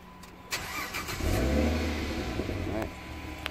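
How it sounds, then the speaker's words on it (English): A car engine cranks and fires up, settling into a steady idle; the start is brief and close, followed by a continuous low rumble until the end. "start the car for me"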